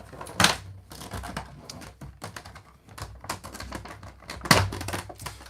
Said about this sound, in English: It is time to do some cutting with some scissors.